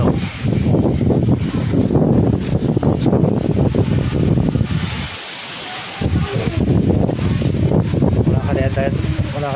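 Strong coastal wind in Batangas buffeting the microphone in heavy gusts, loud and roaring, with a brief lull midway; people talk under it.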